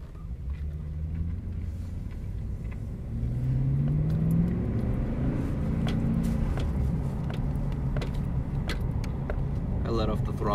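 A GM Silverado pickup drives along a neighborhood street, its engine climbing in pitch under load, then dropping as the transmission shifts, with a steady road rumble throughout and a person talking over it.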